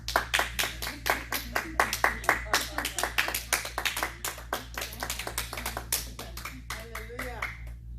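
Rapid, sharp clapping from a small church congregation welcoming a guest pastor at a dawn prayer service, steady and close, thinning out toward the end as a few voices murmur over a low hum.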